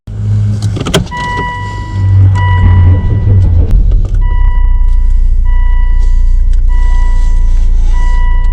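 A Volvo car on a test drive sounds as a loud, near interior engine rumble and road drone, with a steady electronic warning chime repeating through most of the stretch and a few clunks early on.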